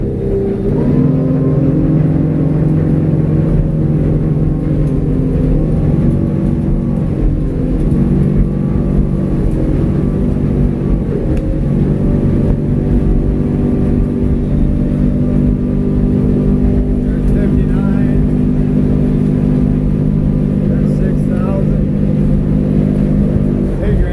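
A loud, steady 2020 Edge Marine 24 motorboat engine rumble with a low throbbing hum, running continuously and close, with slight shifts in pitch as the motor works.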